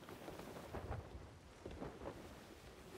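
A thunderstorm rumbles in a pirate sailing video game, with low rolling thunder and steady rain and wind noise, faint and distant throughout.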